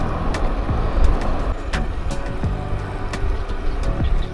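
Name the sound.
car passing a cyclist on the road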